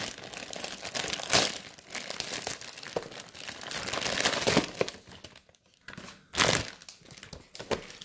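Plastic wrapping and paper packaging of a Star Trek magazine issue being torn open and crumpled by hand, close and busy crinkling with a few louder rips, briefly dropping to near silence before more rustling.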